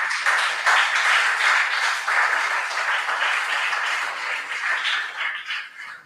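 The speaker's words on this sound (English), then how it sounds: "Please clap for them." A school quiz audience applauds a team, steady dense clapping at moderate loudness that holds for several seconds and then thins out toward the end.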